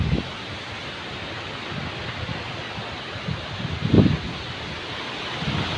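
Strong wind blows hard outdoors during eel fishing: a continuous roar with gusts buffeting the microphone, loudest in a brief surge near the middle.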